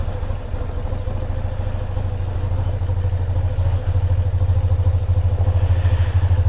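A 1993 BMW R100GS motorcycle's boxer twin thrums steadily while riding, a close, continuous low pulsing engine note with mechanical clatter layered over it.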